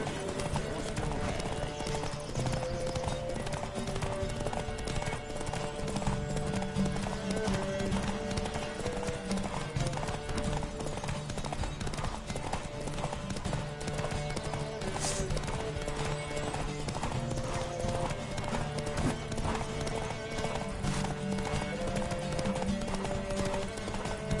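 A horse galloping in the video game Witcher 3, with rapid rhythmic hoofbeats continuing steadily under in-game music for the whole stretch, loud and close.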